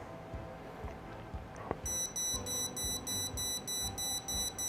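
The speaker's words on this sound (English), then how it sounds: "now let's trigger the alarm" A Dahua AirShield wireless security alarm goes off, sounding a rapid series of regular high-pitched electronic beeps after a faint click, steady and fairly close.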